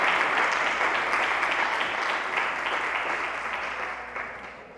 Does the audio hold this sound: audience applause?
yes